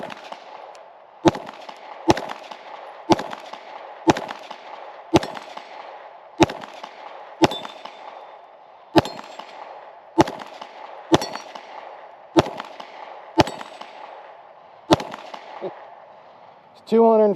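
Rifle firing a final 15-round magazine at a range, roughly fifteen sharp reports spaced about a second apart, each with a short decaying echo, loud and close.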